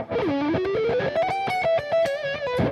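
An electric guitar with a distorted black-metal tone and added reverb plays a quick run of sliding, sustained notes, loud and close with a washy tail behind each note.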